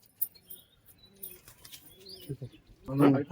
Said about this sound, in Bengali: এগুলো হলো দেশি পায়রা আমার মাদিটা ধরা পায়রা আর এই নটটা আমার বাড়ির বাচ্চা পায়রা গিরিবাজ পায়রা